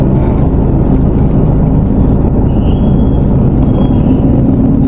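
Road traffic with cars passing makes a continuous loud rumble and whir of engines and tires, close by and steady for the whole stretch, with no one talking.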